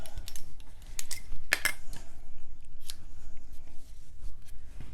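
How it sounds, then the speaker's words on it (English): Scissors trim excess ribbon or material while a paper recipe wallet is being made: a quick series of sharp metallic snips and clicks, close and crisp, with small handling rustles between cuts. "Let me trim a little of it off."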